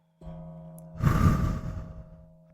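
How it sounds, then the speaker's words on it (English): A single slow, audible exhalation of breath during a guided relaxation exercise, soft at first, then a fuller airy rush that fades gently away; no talking. "Now exhale."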